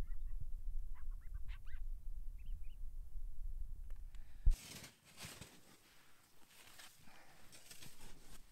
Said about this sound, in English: I get this bird hanging around.